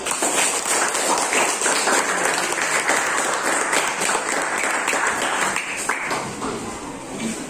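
Applause in a classroom for a group of students who have just finished presenting, a broad steady wash of many hands clapping that fades slightly toward the end, with little talking.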